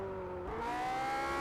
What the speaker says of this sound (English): SCCA time trials autocross superstar will come across the line and take the checkered flag, and Ryan Otis for the first time in Sonoma